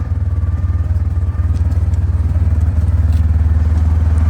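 A quad ATV engine chugs loud and close on a wooded trail, a steady pulsing low drone with occasional clatter from the machine, using engine braking on the descent.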